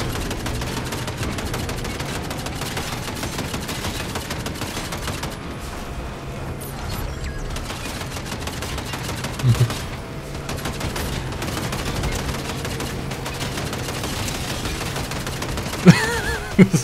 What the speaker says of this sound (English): Heck yeah, now I can shoot.